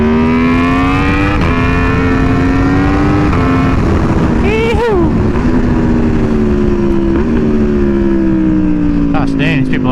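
Aprilia Tuono V4R motorcycle ridden hard on a road, its engine droning steadily close by with rising and falling revs, a sharp rev burst midway, and constant wind roar throughout.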